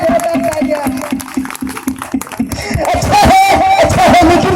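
Audience applause at a rally for Dr. B.R. Ambedkar's birthday in Rampur, a dense broadband clatter swelling in over the last second and a half after someone speaks, then continuing loud beneath him.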